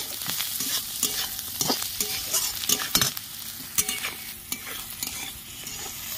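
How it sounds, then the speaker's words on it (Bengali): Salt being stirred into vegetables and egg frying for chow mein, a steady sizzle under repeated scraping, clattering strokes of a spatula in the pan, close and fairly loud throughout. "পরিমাণ মতো নুন দিয়ে দিচ্ছি, ভালো করে নুনটা মিশিয়ে নিচ্ছি।"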